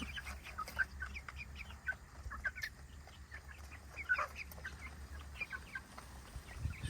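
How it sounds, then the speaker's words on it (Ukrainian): Small Bielefelder and Amrox chicks peep and cluck in short scattered calls, fairly faint, over steady low background noise with no voices. "Ось такі наші маленькі курчатка."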